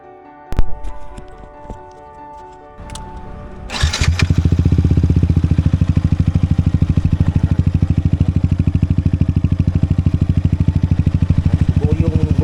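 A Yamaha MT15 motorcycle fitted with a full system exhaust starts after a few clicks, then settles into a loud, close, deep and bassy idle with a steady rapid pulse that continues to the end.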